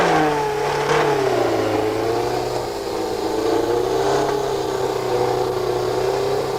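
A McLaren Formula One car's engine roars and revs steadily nearby, a sustained loud drone with rising and falling pitch, heard alone without voices.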